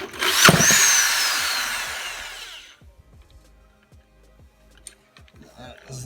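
A Suzuki Lets 3 scooter engine, still on its old carburetor, is started: a loud whirring burst lasts about two and a half seconds and fades, followed by quiet clicks and handling noises.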